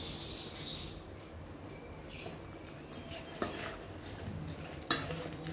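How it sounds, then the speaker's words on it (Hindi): Spicy chaat ingredients are stirred together in a bowl, producing faint soft scraping and mixing with a few light clinks and taps, quiet throughout. "अभी अच्छी तरह से मिक्स कर देते हैं।"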